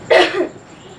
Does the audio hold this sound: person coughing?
yes